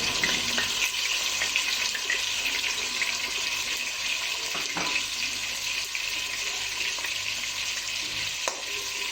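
Beef kofta fry lightly in a pan with a constant, close sizzle and crackle, broken by a few small pops, and no voices.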